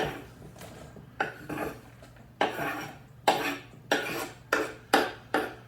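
Mushrooms are scraped off a board into a pan with a series of about eight sharp, evenly spaced scraping strokes and clatters, close and clear with no talk.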